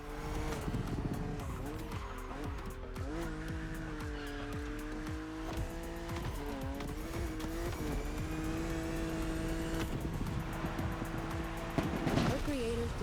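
A car races along open Hawaiian roads in The Crew Motorfest, its engine revving up and down through gear changes while tires squeal now and then, with voices talking over the steady drive.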